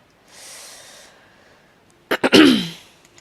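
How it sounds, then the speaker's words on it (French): A breathy exhale followed by a few sharp, close throat-clearing rasps, two quick bursts then a longer gravelly clear. "je me racle la gorge plusieurs fois"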